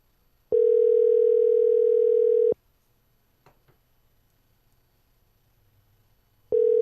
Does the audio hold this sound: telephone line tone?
yes